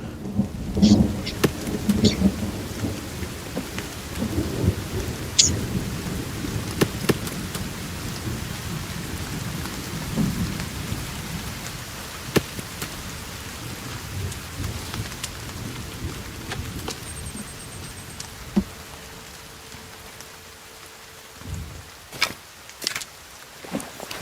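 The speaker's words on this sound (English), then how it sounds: "It's raining again." Steady rain with rolling thunder in the survival video game The Forest, a continuous close downpour with low rumbles through the first half, fading toward the end with a few sharp clicks.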